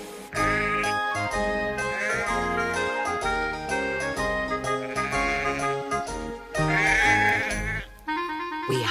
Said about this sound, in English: The sheep have a haircut and there's wool everywhere.